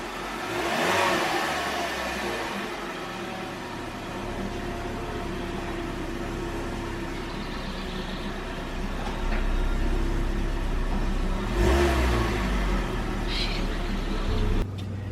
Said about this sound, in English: Hey, she runs. The Copart car runs.